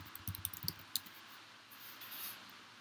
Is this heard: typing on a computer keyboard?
yes